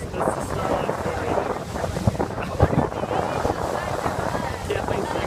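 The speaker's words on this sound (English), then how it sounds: "Sorry for all the wind, but I can't do anything about that." Heavy wind buffets the microphone throughout a boat ride on open water near Mackinac Island, a constant loud roar with rumbling gusts and a few thumps, with a voice talking intermittently underneath.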